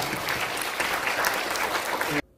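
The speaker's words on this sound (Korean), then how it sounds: "여러분 모두 위해서 박수를 쳐주시기 바랍니다." Audience applause fills a conference hall at a forum in the National Assembly members' office building, a dense steady clapping that cuts off abruptly near the end.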